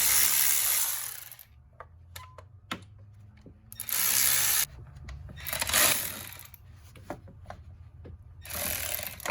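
A cordless power ratchet works bolts on a GMC Sierra engine during fuel injector replacement, with several loud whirring bursts of spinning separated by quieter metallic clicks and clanks of tools.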